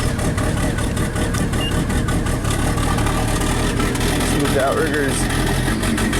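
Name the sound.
JLG lift engine running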